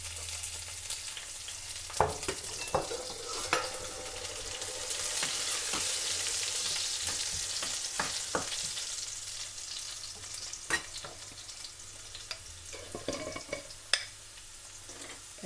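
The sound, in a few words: garlic frying in oil in a pan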